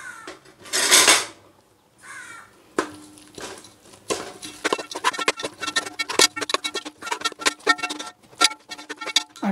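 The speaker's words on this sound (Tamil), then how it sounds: "ரெண்டையும் சேர்த்து நல்லா கிளறி விட்டுருவோம்." Spoon scraping and clattering in a cooking pot as chili powder and salt are stirred into biryani masala; irregular metallic clinks and scrapes, close by, with a louder rattle near the start.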